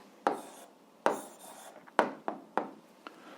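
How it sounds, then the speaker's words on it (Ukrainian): Pen strokes writing out an algebra answer by hand on paper, six short scratchy strokes in an uneven rhythm, close and quiet with no talk. "Ну що ж, записуємо відповідь, пишемо відповідь"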